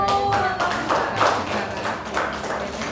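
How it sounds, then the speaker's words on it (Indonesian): Children in a classroom clapping their hands together, a short burst of sharp, uneven claps lasting a few seconds, with some voices mixed in. "Oke, tepuk tangan dulu."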